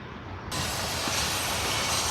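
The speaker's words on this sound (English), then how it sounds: "train is going across the tracks right in front of us, so it is making an absolute ruckus" A loud, steady roar of a train rolling past on the tracks, close by, with constant rumbling and hiss that swells in abruptly and holds.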